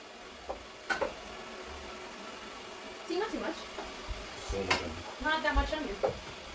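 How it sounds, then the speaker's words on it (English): Onion goes into meat already frying in a pan, giving a steady, fairly quiet sizzle with a few stirring clicks, while a person talks over it in the second half. "Going to add the onion to the meat."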